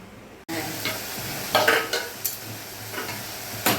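Spiced masala for a yogurt-based Bengali potol curry fries and is stirred in a pan, a steady close sizzle with intermittent scraping strokes of a spoon, starting abruptly after a brief quiet moment.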